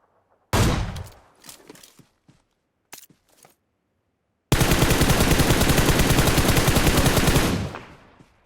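Gunfire in the PUBG Mobile video game: several scattered shots and short bursts, then a loud, sustained stream of rapid automatic fire lasting about three seconds, close and dominant with no talk over it.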